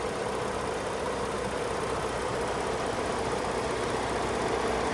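A 2010 Ford Edge Limited with a 3.5 liter V6 idling smoothly, a steady even engine hum heard close and unbroken throughout, with no one talking.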